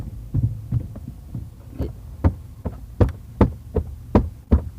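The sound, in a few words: imitated kicking on a desk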